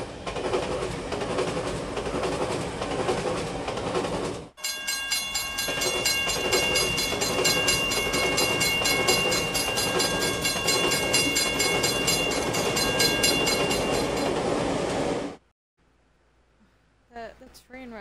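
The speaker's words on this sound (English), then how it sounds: "the train should start moving now" A train in a Minecraft BATIM map rolls along with a steady, loud rumble and rapid clickety-clack that starts abruptly, runs continuously for about ten seconds, then cuts off into near silence with a few faint knocks.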